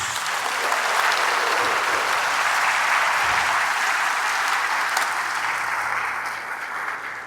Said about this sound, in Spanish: denle un aplauso grande al Señor Jesús